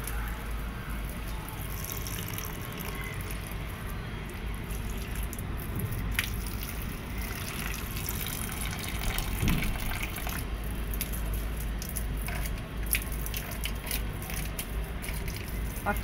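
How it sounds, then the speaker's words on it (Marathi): Water from a hose pipe runs onto potted plants, including aloe vera, in a home balcony garden, a steady, moderately quiet gush with occasional drips and splashes throughout, with faint voices in the background. "चला आपण पाईपानं पाणी घालू या झाडाला."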